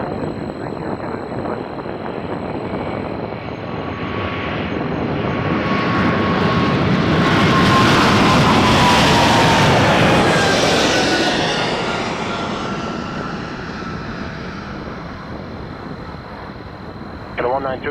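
An airliner takes off at Toronto Pearson Airport, its jet roar rising to a loud peak mid-way and then fading as it climbs away, with tower radio talk faint underneath.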